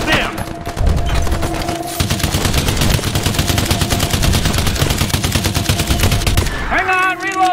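Loud, continuous bursts of rapid automatic gunfire shooting at aliens in the sci-fi shooter EarthFall, a dense rattling barrage that runs for several seconds before stopping abruptly.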